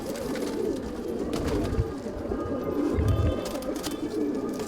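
Madrasi pigeons coo in low, throaty bursts against a busy background of rustling and shuffling, with the calls repeating close by.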